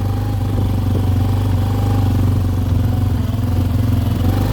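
Yamaha Big Bear 400 ATV engine running steadily and loud, held close through a brief wheelie, with a constant droning hum, mechanical clatter and no talk, on a cold day with brakes dragging.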